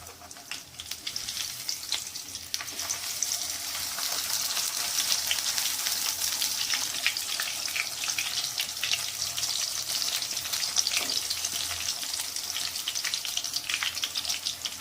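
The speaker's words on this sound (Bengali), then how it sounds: "আর একটু গ্যাসটা সিম করে আস্তে আস্তে ভেজে নেবো যাতে পাতাটা সেদ্ধ হয়ে যায়" Pumpkin leaf fritters frying in oil over a low flame, a steady close sizzle with fine crackling that holds evenly for the whole stretch, with no voices over it.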